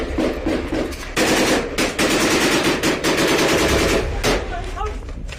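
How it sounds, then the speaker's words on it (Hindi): Heavy machine gun fire in combat, with loud sustained automatic bursts that pause briefly and then resume, close and dominating the whole clip. "गोलीबारी शुरू कर देते हैं"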